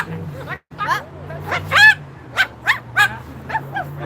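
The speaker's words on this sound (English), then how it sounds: "Barking for the dog." Several sharp dog barks and yips in quick succession, fairly close, with background voices murmuring underneath.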